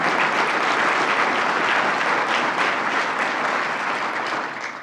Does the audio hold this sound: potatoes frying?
no